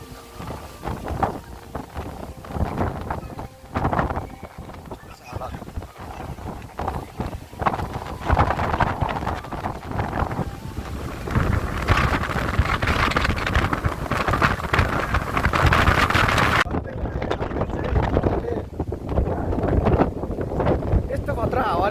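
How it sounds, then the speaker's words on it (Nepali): Strong, gusty wind at Pokhara buffets the microphone in loud, rough surges that swell and fade over about twenty seconds, with talking underneath. "यहाँ चाहिँ यस्तो हावा डेन्जर हावा चलिरहेको छ"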